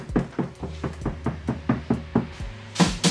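Knocks land on an uninsulated vehicle door panel, about a dozen hollow, resonant raps in a steady rhythm, close and fairly loud, with a louder pair at the end.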